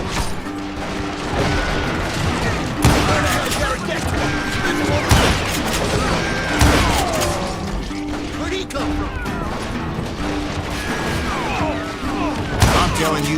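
Gunfire in the Western shooter video game Call of Juarez Gunslinger: repeated loud gunshots and crashing impacts in a dense, continuous fusillade, with voices shouting over the shooting.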